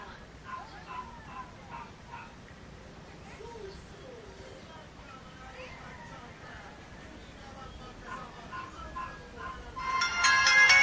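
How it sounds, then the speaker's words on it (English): The default ringtone of a Yosion Apple Peel 520 phone plays a repeating melodic pattern under background voices and an occasional dog whimper, getting noticeably louder toward the end. "That's my really corny ringtone, which is kind of default on the Peel"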